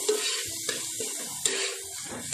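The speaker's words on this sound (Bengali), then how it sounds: "এই মশলাটাকে খুব ভালো করে ফ্লেমটাকে স্লো করে কষিয়ে নেব।" A paste of ground cumin and turmeric fries gently over a slow flame, soft sizzling with a few spoon scrapes, quiet and close.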